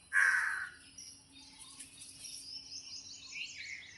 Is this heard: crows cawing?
yes